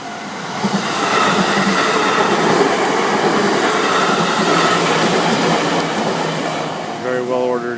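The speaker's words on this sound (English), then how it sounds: "Here's a train." A train rolls past on a railway in Japan, a loud sustained rumble and rattle of wheels on track that swells in and holds, ending with a high squeal of wheels.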